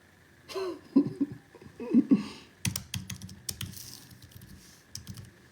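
Clacking keystrokes on a computer keyboard come in quick irregular bursts through the second half, following a few short throaty sounds like coughs or throat clearing at the start.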